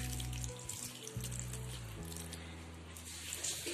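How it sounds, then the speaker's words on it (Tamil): Tap water running steadily into a kitchen sink or vessel to soak flattened rice (aval) for laddu, a close, continuous splashing flow with slight shifts in pitch as the level rises. "மூழ்கிற அளவுக்கு தண்ணி விட்டுருக்கேன்."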